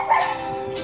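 A thin, dirty dog at a pier lets out a single short, nasal bark that trails into a whine, close and alone.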